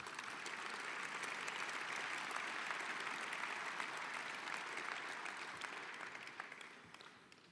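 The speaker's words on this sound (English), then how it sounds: "Please, one applause for Jean-Claude" Sustained applause from a large audience at a European People's Party congress, a steady wash of clapping that holds evenly then gradually tapers off toward the end.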